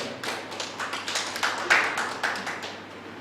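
An audience at an honouring ceremony claps steadily, with scattered, fairly faint taps that build into a sustained patter of applause. Almost no talk is heard.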